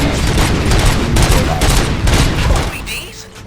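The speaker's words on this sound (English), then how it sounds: "Gunshots? What's going on?" Rapid bursts of video game gunfire in RoboCop: Rogue City crackle loudly and continuously, with dense overlapping shots, tapering off near the end.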